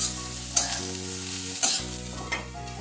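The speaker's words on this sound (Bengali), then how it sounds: "কারণ সমস্ত সবজিগুলো একটু ভালো করে তেলে ভেজে নিচ্ছি।" Mixed vegetables and capsicum pieces fry in hot oil with a continuous close sizzle, broken by several sharp scrapes as a spatula stirs them around the pan, while a low hum runs underneath.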